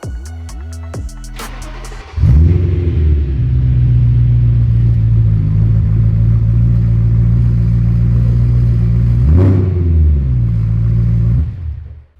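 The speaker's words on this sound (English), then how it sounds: "I want to start with the M3 with no muffler at all and just see how it sounds" A BMW E92 M3 V8 with no muffler fires up with a sharp crank, then idles loud and raw with a deep burbling rumble, a quick blip of revs near ten seconds, and cuts off at the end.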